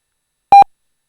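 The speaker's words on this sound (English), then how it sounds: "Backslash a does an alert sound." A single short electronic computer alert beep, triggered by the backslash-a escape character in a C# console program. It is loud and clear, about a tenth of a second long, with silence before and after.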